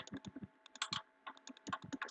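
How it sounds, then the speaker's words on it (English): Rapid spam clicking of a computer mouse while building in a Mineplex Master Builders game, dense close clicks in uneven quick bursts separated by short pauses, with no voices. "Spam clicking is like a specialty."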